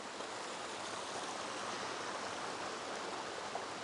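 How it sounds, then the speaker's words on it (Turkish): Rushing water from a forest stream and small waterfalls in the Kaz Mountains, Turkey, makes a steady, full hiss with no pauses. "Bakın burada da yine minik minik şelaleler yine."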